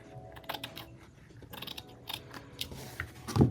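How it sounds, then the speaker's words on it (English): Scissors snip along a strip of lace during paper-and-fabric crafting, a series of close, crisp cuts and rustles ending in a louder snip. "Now, I forgot to trim the top of that lace."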